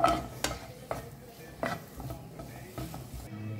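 Prawns cook in a pan over a low flame with a gentle sizzle beneath a few sharp stirring knocks and scrapes of a utensil against the pan.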